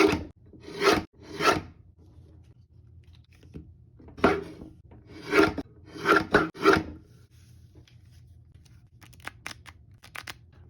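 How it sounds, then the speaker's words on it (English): A paper cutter slicing card stock into poker-sized game cards; several sharp, crisp cutting strokes come close and loud in uneven bursts, a few quick ones bunched together, with quiet gaps between. "Paper cutter is incredibly helpful."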